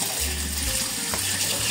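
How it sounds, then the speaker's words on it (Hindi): Cold water gushes from a tap over boiled chow mein noodles in a strainer, a continuous close splashing pour that stays at a steady level throughout. "इसके ऊपर से हम ठंडा पानी डालेंगे ताकि हमारे नूडल जो है वो आपस में चिपके नहीं।"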